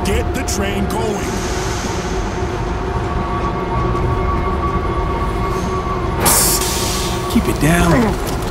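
A train in the video game World War Z rumbles and starts moving with steady mechanical drone and a sharp hiss burst near the end, with voices over it.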